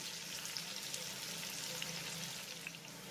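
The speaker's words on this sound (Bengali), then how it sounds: "আর তারপরে এই পেঁয়াজটাকে আমি হালকা ব্রাউন করে ভেজে নেব" Onions frying lightly in oil toward a pale brown, heard as a soft, even hiss with faint scattered crackles, fairly quiet and steady.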